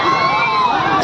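Large crowd at a DJ competition, a dense, steady roar of voices and cheering with music tones running through it, loud and close.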